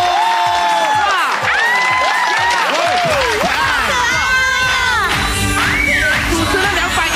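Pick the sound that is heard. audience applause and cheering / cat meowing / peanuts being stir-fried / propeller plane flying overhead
audience applause and cheering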